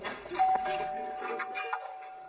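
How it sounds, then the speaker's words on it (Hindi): A house doorbell sounds in a dubbed drama scene, a single sustained electronic chime tone that rings steadily for about two seconds amid faint background voices and room noise. "सोगो में कोई घर आकर दरवाजे की घंटी क्यों बजाएगा?"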